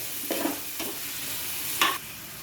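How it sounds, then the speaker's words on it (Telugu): Onions fry in a pan with turmeric and salt for a grass carp fish curry, sizzling as a steady close hiss broken by a few short stirring scrapes, with no one talking. "ఇలా మనం ఆనియన్స్లో పసుపు ఉప్పు వేసుకోవడం వల్ల ఆనియన్స్ అయితే చాలా స్పీడ్గా వేగుతాయి"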